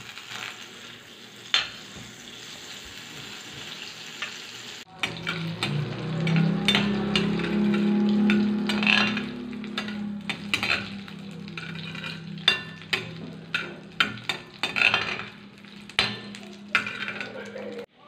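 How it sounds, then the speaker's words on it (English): Chorizo bilbao fries in butter, starting as a quiet hiss and then swelling into a loud close sizzle with repeated scraping and clinks of a utensil stirring in the pan; no talking. "So first we're gonna fry the chorizo bilbao in butter."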